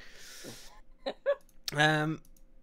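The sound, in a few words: burp after drinking Red Bull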